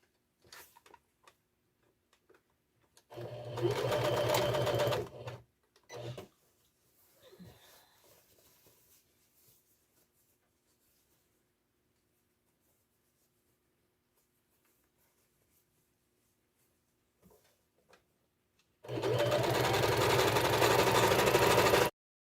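A domestic sewing machine stitches a duvet cover seam in two bursts, one around three to five seconds and a longer run at the end, with quiet handling between and no talk.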